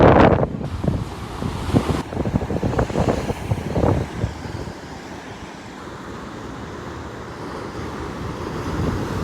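Rough, riled-up sea waves crash along the Tenerife coast, a steady broadband roar with louder surges in the first few seconds and wind buffeting the microphone throughout.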